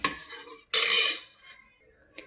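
Cooked dal (lentils) mashed with a metal utensil in a pot, giving two short bursts of scraping, clinking strokes followed by fainter, sporadic taps, close and with no talking.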